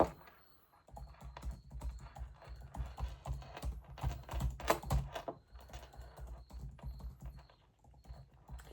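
A note being typed on a computer keyboard, a close run of soft, quick key taps with uneven rhythm, quiet and alone.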